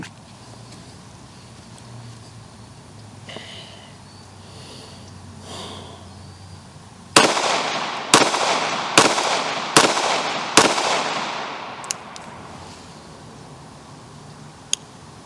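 Five sharp pistol shots fired in fairly quick succession at an outdoor range, each a loud crack with a trailing echo, spaced about a second apart after a quiet stretch of breathing and rustling.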